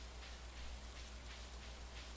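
Steady, soft rain falls in Stardew Valley on a rainy in-game day, an even, continuous hiss with no talking.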